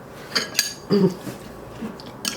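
Seasoned, salted food tossed in a bowl, a few short clinks and scrapes of a utensil against the dish in quick, uneven bursts, close and fairly quiet.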